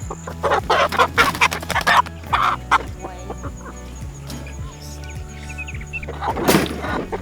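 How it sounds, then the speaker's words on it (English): Several chickens cluck and squawk in bursts close by, with a low mechanical hum and clatter running underneath. "I have an armful of chickens."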